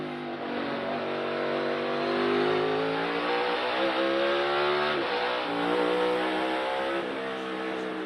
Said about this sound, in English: So here's Allmendinger coming down the S's